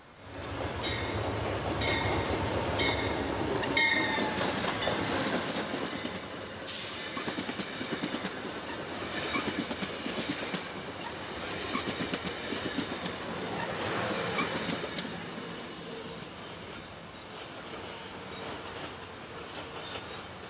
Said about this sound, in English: That's Amtrak train 652, Keystone service en route from Harrisburg to